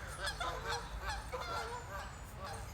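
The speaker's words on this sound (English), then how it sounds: "it's geese." Geese give a steady series of honks, fairly close and continuous, overlapping calls from a flock, with no talking.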